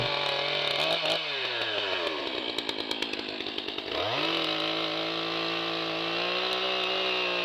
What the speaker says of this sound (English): I'm going to have to go get the chainsaw